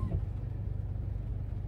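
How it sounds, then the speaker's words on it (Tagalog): A car goes by on a street in a residential neighborhood near a post office, a steady low rumble holding at moderate distance with no clear rise or fall. "May sasakyan."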